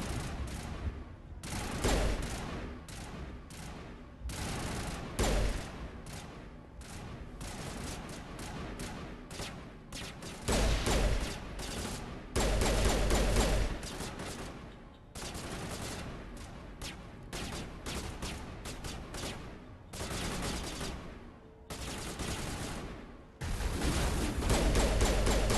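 Sustained gunfire in the video game Mass Effect, dense rapid bursts of shots and explosive impacts repeating across the whole stretch with brief lulls between volleys.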